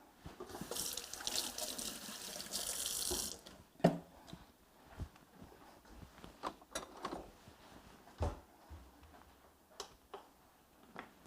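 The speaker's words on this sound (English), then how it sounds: "let me wash my hands and we'll get started" Tap water runs into a kitchen sink as hands are washed, a steady splashing stream for a few seconds, then scattered drips, taps and small knocks of a quiet kitchen, faint and without talk.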